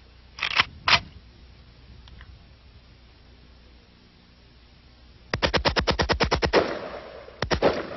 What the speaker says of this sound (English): This is the fully automatic firearm. It's an AK-47.